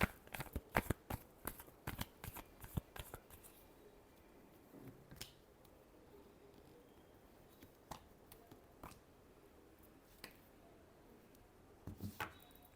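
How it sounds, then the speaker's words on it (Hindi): A tarot deck is shuffled, with a quick burst of crisp card riffles and snaps at the start, then quieter scattered flicks and taps over a faint background. "Last shuffle."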